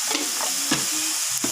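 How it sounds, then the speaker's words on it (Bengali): Prawns frying in a pan, stirred with a few scrapes of the utensil against the pan over a steady close sizzle, with no talking. "একবারে একটু নেড়ে চেড়ে নেব।"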